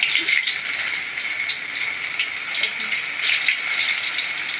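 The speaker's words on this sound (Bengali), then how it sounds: "এইভাবে এখন আমরা চিপসটা ঢেলে ঢেলে দেবো।" Banana chip slices poured into hot oil a little at a time, giving a steady bright sizzling hiss of home frying that swells slightly in places and never breaks off.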